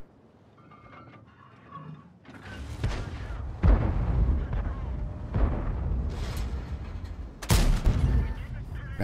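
Artillery fire in the World of Tanks game, with a Object 252U tank on the Mines map, several booming blasts and rumbling impacts in succession, loud and close, with a voice speaking beneath.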